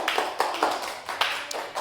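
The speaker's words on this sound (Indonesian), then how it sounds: "Beri tepuk tangan." Classroom of students claps hands in a short, quiet burst of scattered, uneven claps lasting under two seconds, with no talk.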